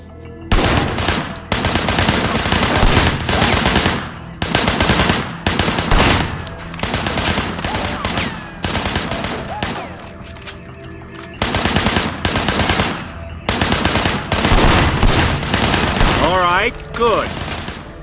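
Loud, sustained automatic gunfire in the Sleeping Dogs video game shooting at targets from behind a barricade, coming in long bursts separated by short pauses.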